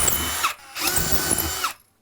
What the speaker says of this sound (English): then I'll drill through this way